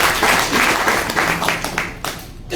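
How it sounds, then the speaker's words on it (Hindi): Loud audience applause at an IMC business seminar, dense and continuous at first, thinning into scattered claps and dropping off near the end with a murmur of voices beneath. "जोरदार तालियां होनी चाहिए"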